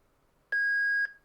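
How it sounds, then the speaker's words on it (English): A Motorola GM350 two-way radio gives a single sustained electronic beep after programming, a clean steady tone lasting about half a second, clear and alone against a quiet background. "Radio will beep once done."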